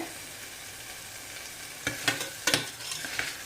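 Tomatoes sautéing in oil for a green peas curry give a steady soft sizzle, with a few sharper scrapes and stirs of the pan near the end.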